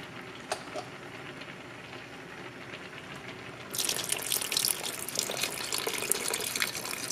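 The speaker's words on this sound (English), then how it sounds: "I'm going to add chicken stock just to add some flavor to the liquid" Chicken stock poured into a pot of crab curry, arriving as a sudden close gush of splashing liquid midway that keeps flowing steadily after a quieter kitchen stretch.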